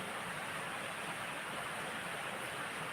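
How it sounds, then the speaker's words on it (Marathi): Constant, even hiss of steady monsoon rain in the Konkan region, dense and unbroken throughout with no other sounds standing out. "पाऊस चालू आहे"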